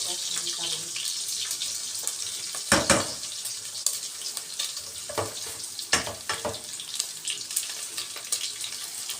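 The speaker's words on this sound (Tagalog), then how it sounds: "Pag golden brown din natin yung bawang para mabango." Garlic frying in a pan for a Filipino pinakbet, a steady broadband sizzle with scattered crackles and a few louder pops, close and continuous throughout without talk.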